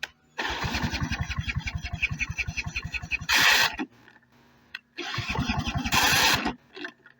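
A Sachs two-stroke engine on a Sorepco GTX SB 151 A brushcutter mower is pulled over with rapid chugging, then revs up to a high roar. It falls back and the cycle repeats, loud and close, with no talk.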